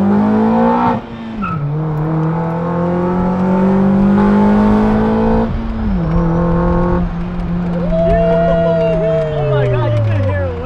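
An Acura TSX fitted with an Injen cold air intake revs hard and close, its engine note rising and falling through several pulls with a faint high whistle on top. Voices of people are heard nearby near the end.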